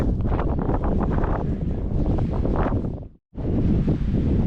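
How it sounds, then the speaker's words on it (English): Strong, steady wind buffets the microphone in a loud continuous roar on an exposed Scottish hill ridge, broken once by a brief moment of quiet before gusting back. "Really windy."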